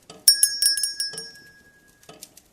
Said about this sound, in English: He walked across the room to the bell.